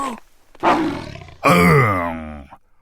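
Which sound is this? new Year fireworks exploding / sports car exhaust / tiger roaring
tiger roaring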